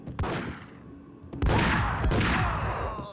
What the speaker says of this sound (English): let's take him out with the shotgun